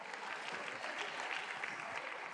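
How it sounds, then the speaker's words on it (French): Steady, sustained applause from a comedy show audience, even and continuous throughout with no pauses. "je vous demande d'applaudir bien fort"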